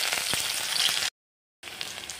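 Black cumin, a bay leaf, dried tulsi and spices frying in hot oil, a steady close crackling sizzle broken by a brief silent gap before resuming.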